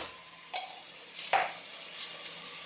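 A spoon scrapes and stirs through sizzling tofu chili as tomato paste is mixed in, giving a soft, steady frying hiss with a few brief clinks. Faint and close, with no talk.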